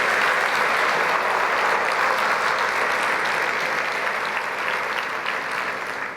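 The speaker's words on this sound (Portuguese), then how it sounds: "Você pode dar uma salva de palmas para o Senhor?" A crowd claps steadily and loudly for several seconds, a dense, sustained applause that tapers slightly at the end.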